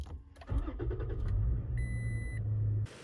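A Subaru Outback engine cranks briefly and then catches after a jump start from a 12-volt battery pack, settling into a steady idle rumble nearby before cutting off abruptly.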